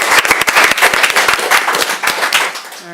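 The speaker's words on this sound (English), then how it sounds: "Give them a round of applause" People at a city council meeting clap for two honored residents in a loud, close burst of distinct claps. The clapping thins out over the last second and ends with a faint tonal sound.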